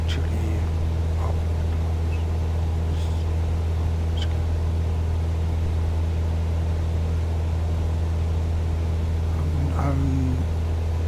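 Steady drone of a light aircraft piston engine in Microsoft Flight Simulator 2024 on a Papua New Guinea flight from Goroka to Simogu, constant and loud throughout, with a few faint clicks and brief muffled voice sounds.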